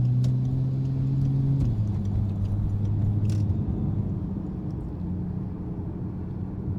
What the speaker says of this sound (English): This is Kev Spec in his 630 kilowatt G6E turbo, just running through the tunes